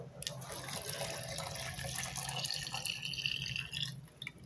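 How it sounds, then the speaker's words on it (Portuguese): Warmed water and milk are poured into a blender, a faint splashing trickle of liquid lasting a few seconds in a quiet kitchen. "aqui eu mornei a água e o leite e eu vou virar aqui agora"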